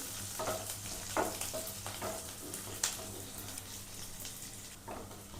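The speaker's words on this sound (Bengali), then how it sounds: "এইটা একটু ভাজা হবে, আর একটু হালকা লাল লাল ভাজা হবে।" Garlic and curry leaves fry in a pan of oil for sambar, giving a steady, quiet sizzle with a few soft stirring scrapes and one brief clink. No one speaks.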